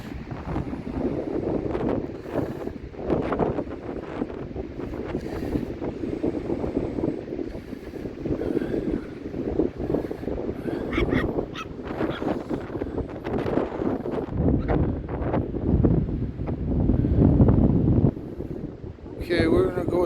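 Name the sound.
strong wind at Rathtrevor beach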